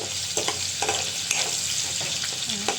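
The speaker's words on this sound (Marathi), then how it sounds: "मी त्याच्यात चेचलेलं लसूण घालते थोडा लसूण आपल्याला चांगला भाजून घ्यायचं आहे" Crushed garlic frying in hot oil, a steady bright sizzle with intermittent scraping stirs at a close distance, no talking.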